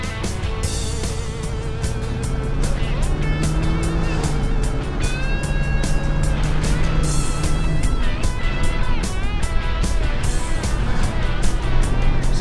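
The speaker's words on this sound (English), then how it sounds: "We're gonna take it for a test drive, make sure it's not pulling left and right." A truck rides on a test drive, its engine humming steadily from inside the cab, with rising and falling whine as it accelerates and shifts, plus rattles and road noise throughout.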